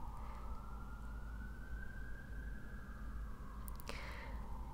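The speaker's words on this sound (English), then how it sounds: "Really, ambulance?" An ambulance siren outside passes by in a long, slowly gliding wail over a low rumble of traffic, muffled and fairly distant, with a brief clatter near the end. No one speaks.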